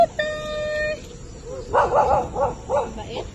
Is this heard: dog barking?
yes